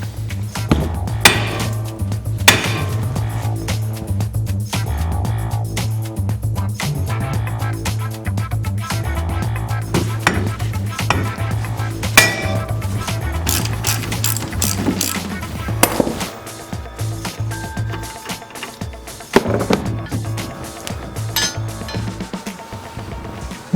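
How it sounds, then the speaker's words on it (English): Metal-on-metal hammer blows break a steering knuckle loose from a ball joint during a car repair, with sharp clanking strikes repeating irregularly for about twenty seconds over a steady low hum. "Now I can beat on this and break the steering knuckle loose."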